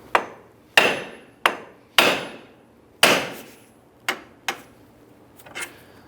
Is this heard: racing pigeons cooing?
no